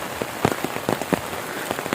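Steady rain falls outdoors at a rural hut on a hillside, a dense patter with scattered louder drops striking nearby surfaces, with no voices.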